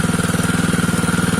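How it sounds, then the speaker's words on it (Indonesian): An Alcon water pump engine runs steadily while drawing water from a source for irrigating chili plants, a loud, close, rapid even chugging throb with no variation in pace. "mesin Alcon sudah bunyi, tapi sekarang mesin Alcon lagi nyedot air yang dari sumber itu"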